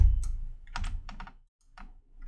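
Computer keyboard typing, quick irregular clusters of crisp key clicks with short pauses between bursts, close and clear with no talk over it.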